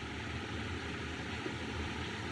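A 1929-era airplane engine drones steadily in a continuous, even roar, fairly loud and unbroken, with no voices over it.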